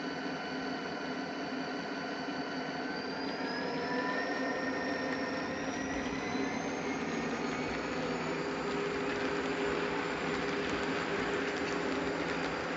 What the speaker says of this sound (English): it increases the sound of the engine